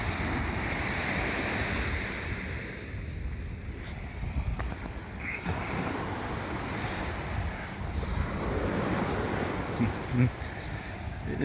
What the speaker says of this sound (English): It's time to go for a long walk on the beach.